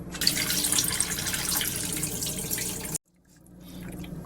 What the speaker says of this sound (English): after I dump the water, I'm gonna fill it back up.